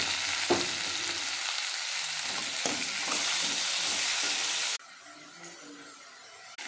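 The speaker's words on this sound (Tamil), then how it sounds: "தக்காளி ஓரளவுக்கு வதங்கிடுச்சு" Tomatoes sautéing in a pan with softened onions for a chutney: a loud, steady frying hiss with a couple of spoon knocks, then the sizzle drops suddenly quieter near the end.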